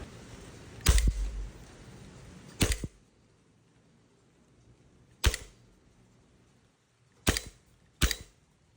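Silver Army Armament R31 airsoft BB pistol shooting at a target, five sharp snapping shots spaced irregularly, fairly close and crisp, with quiet pauses between them.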